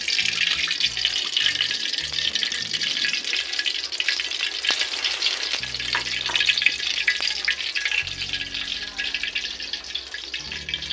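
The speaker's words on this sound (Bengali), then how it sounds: "দেখুন আমার কড়াটা গরম হয়ে গেছে, আমি সাদা তেল ঢেলে দিচ্ছি।" White cooking oil hitting a hot wok in a kitchen, a steady hiss and crackle of frying with faint clinks and a low hum underneath, no voice present throughout.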